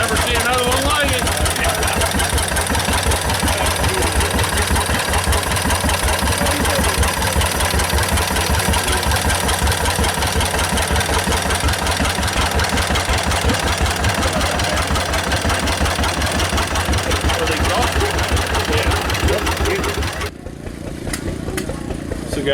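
An old tractor engine idles at an outdoor tractor show with a steady, rapid thumping chug and mechanical clatter, close and loud, cutting out near the end.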